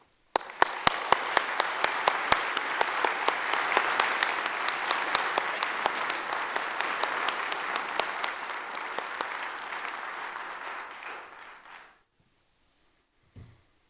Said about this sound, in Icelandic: Og ég vil fá svolítið klapp fyrir ágæta samferðafólk.